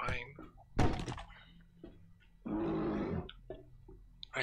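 A zombie bear in the 7 Days to Die video game pounds on a wall, producing a few heavy close thuds and a growling roar, while players talk over the noise.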